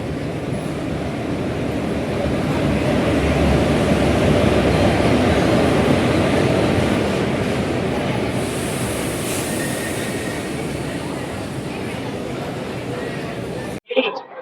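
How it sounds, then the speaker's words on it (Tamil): The Coimbatore–Tirupati Intercity Express rolls in about an hour late, a long rumble of wheels on rail with occasional squeals, steady and fairly loud, with voices faintly in the background. "கோயம்புத்தூர்ல திருப்பதி போற இன்டர்சிட்டி எக்ஸ்பிரஸ் வந்துட்டு இருக்குங்க"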